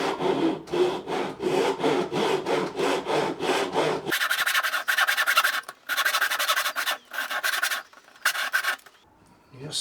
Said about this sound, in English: You just saw until it bottoms out against the rollers there.